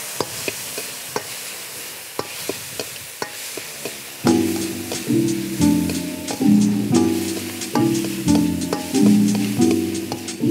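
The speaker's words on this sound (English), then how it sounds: "In goes the chili and garlic. I'm gonna stir fry that through." Chili and garlic stir-fried in a wok for pad krapow: a loud, dense sizzle with repeated metallic spatula strikes and scrapes, starting with sparse clinks before the sizzle swells.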